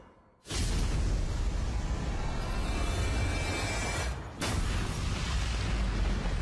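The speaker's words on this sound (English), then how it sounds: "Your tower has been destroyed. Our base is under attack." Tower and base being destroyed in the mobile game Liên Quân Mobile: after a brief quiet moment, a loud, dense roaring blast rumbles on continuously, cuts out for an instant, then surges back just as heavy.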